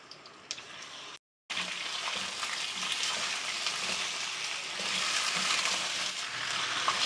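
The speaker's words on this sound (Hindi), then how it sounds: "सबसे पहले हम चिकन को फ्राई कर लेंगे।" Chicken pieces frying in half a cup of cooking oil in a karahi, a loud continuous sizzle and crackle with a brief cut to silence early on, then steady spitting oil.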